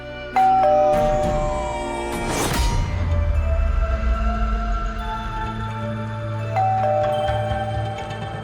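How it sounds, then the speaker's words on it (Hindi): A doorbell chimes indoors, a bright ding-dong followed by sustained ringing tones and a low hum, with a second chime near the end. "घंटी बजाओ।"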